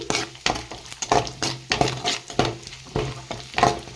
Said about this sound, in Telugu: బాగా ఫ్రై అయిపోతున్నాయి కిస్మిస్